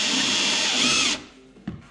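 A power drill bores holes in aluminum with a loud, high, steady whine that cuts off after about a second, leaving near silence broken by a single short knock.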